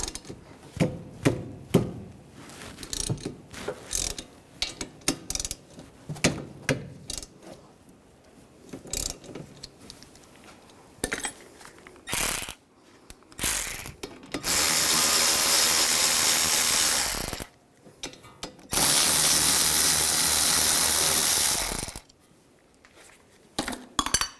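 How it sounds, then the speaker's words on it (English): A 14mm socket on a ratchet works the rear brake caliper bolts loose on a 2011-2014 Dodge Dart, scattered metallic clicks and knocks followed by two long, loud continuous ratcheting runs, close and without talk. "Using a 14mm socket, take these two bolts out."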